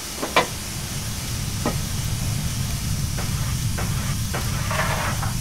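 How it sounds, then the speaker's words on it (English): Steady steam hiss from the brake of the Green Knight steam locomotive in Train Simulator, heard from the cab as a constant broadband wash with a few brief clanks and taps over it. "Steam brake on."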